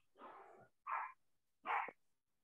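A female dog barks indoors in a home: three short, separate barks spaced about a second apart, close and moderately loud, with quiet between them.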